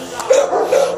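Dog barking at a city animal shelter in San Bernardino, two short yelping barks close to the microphone over a busy room tone.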